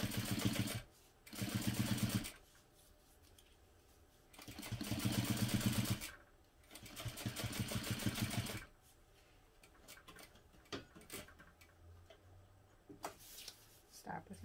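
A sewing machine stitching a seam on a crossbody bag runs in several short bursts of rapid mechanical ticking, separated by pauses with quieter handling noises and a person speaking.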